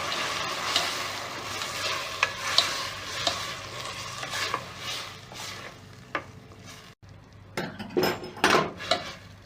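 A utensil scrapes and stirs tomatoes in a frying pan over a steady sizzle, with several sharp clinks against the pan near the end.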